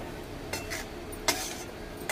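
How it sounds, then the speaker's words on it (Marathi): Poha for spicy potato poha fries in a pan, a quiet sizzling bed broken by a few sharp clinks and scrapes of a spoon stirring against the metal, with no talking. "आता हे आपण पोहे मस्त फ्राय करून घेऊया"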